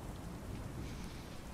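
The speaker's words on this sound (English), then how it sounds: "It is raining and a little bit of thunder." Steady rain falls in a game setting, a dense even hiss with a low rumble beneath that hints at faint distant thunder, continuous and alone with no voices.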